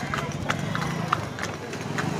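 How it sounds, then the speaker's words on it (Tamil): A horse trots steadily, its hooves clip-clopping in an even rhythm beneath faint background noise, on a horse ride near the Palani temple. "ஃபஸ்ட் டைம் லைவ் ஒரு குதிரையில் போகிறேன்"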